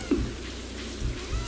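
Steady rain falls in Stardew Valley, a soft, even wash of patter with a few brief low thumps over it.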